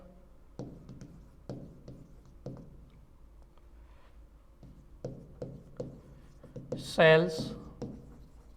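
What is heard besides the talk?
writing a question on a board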